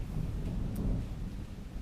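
Thunder rumbles low and steady through a storm, with rain falling on a tin roof heard only faintly, quiet and continuous with no talking.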